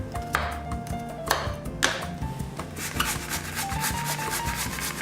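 Cucumber scrapes against a box grater in repeated rasping strokes, close and fairly loud, with occasional metallic pings and knocks as the grater shifts, no voices.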